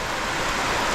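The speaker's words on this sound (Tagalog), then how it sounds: "grabing ulan" Heavy rain falling outdoors, a dense, steady, full hiss of downpour with no pauses.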